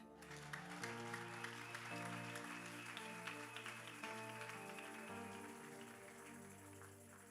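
A church congregation applauds during a French-language sermon, a steady wash of many hands clapping over several seconds, faint and somewhat distant, with sustained music tones underneath.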